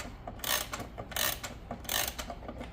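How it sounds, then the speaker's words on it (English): Quiet ratchet clicking while winding an E.N. Welch gingerbread clock, in three short bursts of rapid clicks spaced under a second apart, close but soft. "Winding the clock is done from both the right side and the left side."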